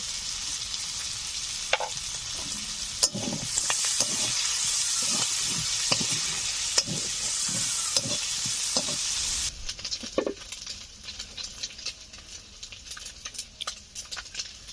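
Prawns sizzle in hot oil with two dry chillies and black cumin for a Bengali kochu shaak dish, a steady loud fry broken by regular scraping stirs, then a quieter crackle with scattered pops near the end.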